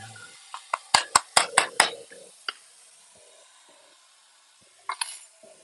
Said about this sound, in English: Let me stir this while this is in my hand.